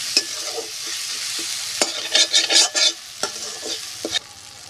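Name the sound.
ginger and cumin frying in oil for crab curry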